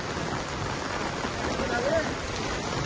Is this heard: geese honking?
no